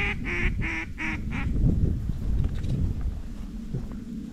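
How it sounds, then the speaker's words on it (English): Ducks call overhead during a North Dakota duck hunt: five or six rhythmic honking, quacking calls sound in quick succession, followed by wind noise and rustling in the field. "Hey, three ducks coming in from sky high."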